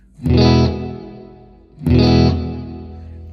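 Electric guitar through a Bayang reverb pedal, two strong strummed chords spaced about a second and a half apart, each decaying into a lingering reverberant tail, close and loud.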